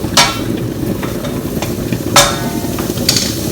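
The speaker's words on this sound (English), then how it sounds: "That's the pumpkin sizzling away." Pumpkin with dried herbs sizzles steadily in a hot pan, with a few sharp clinks of a utensil against the pan over the constant crackle.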